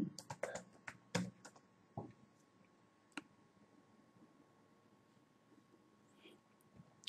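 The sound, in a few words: typing a Google search on a keyboard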